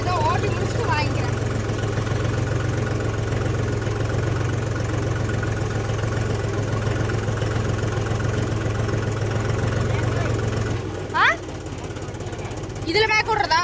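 A Mahindra 275 tractor engine idles in a steady, heavy, low diesel drone, loud and close for about eleven seconds before it cuts out, leaving quieter background sounds and brief voices.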